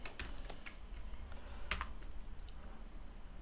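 Java code being typed on a computer keyboard: a steady, close run of quick key taps with a few louder strokes mixed in.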